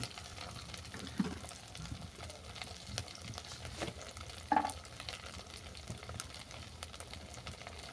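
A spiced poppy seed paste with pointed gourd is stirred and fried in a pan, with a soft continuous sizzle and recurring scrapes of the spoon against the pan at close range, no speech.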